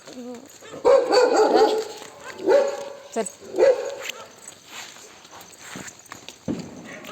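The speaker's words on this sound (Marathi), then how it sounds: "कुत्रे भोवतात सगळे" Dogs bark at intervals late at night amid mixed noise and background voices, with shuffling steps and a few sharp knocks toward the end.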